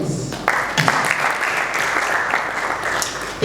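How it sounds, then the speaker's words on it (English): Sustained applause at the close of a LawCon 2022 law conference panel session, a dense patter of clapping hands from a seated audience, fairly close and steady with a few sharper claps standing out. "another round of applause to the audience"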